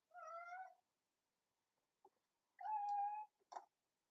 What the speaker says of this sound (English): This is the saddest meows I've ever heard in my life.